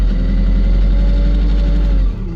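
A tractor engine idles steadily nearby, a loud, even low rumble with a constant throb and no voices.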